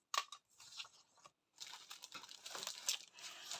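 Scissors snip through a sheet of vellum paper on a craft table: one brief crisp cut, a pause, then a longer run of dry crinkling cutting sounds, close and fairly quiet.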